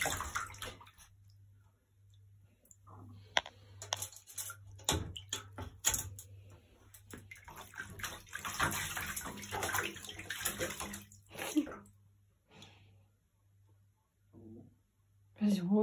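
Water runs steadily into a bathtub with splashes and clatter, while voices talk and a low hum continues underneath.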